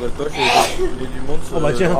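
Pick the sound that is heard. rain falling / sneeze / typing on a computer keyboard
sneeze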